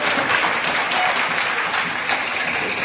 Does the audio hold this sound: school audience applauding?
yes